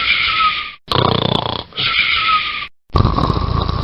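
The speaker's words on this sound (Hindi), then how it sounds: "दादाजी इतने जोर जोर से खर्राटे भरते हैं" An elderly grandfather snores loudly in a steady rhythm, with four long rasping breaths close by, each separated by a brief quiet pause, and no talking.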